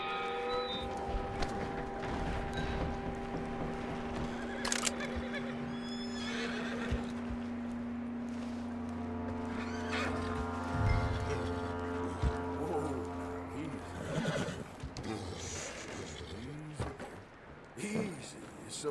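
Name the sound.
horse neighing in video game Red Dead Redemption 2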